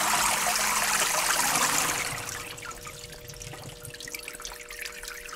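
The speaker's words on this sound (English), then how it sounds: "So it seems to just leave the pump running." A Hoshizaki commercial ice maker runs its water pump, a loud rushing of water that drops off after about two seconds into a quieter trickle with a faint steady hum beneath, no talk.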